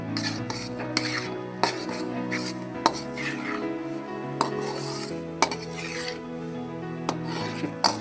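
Flour for mohanthal stirred and roasted in a kadai with a spatula, a continuous close scraping and rubbing with regular sharp metallic taps against the pan.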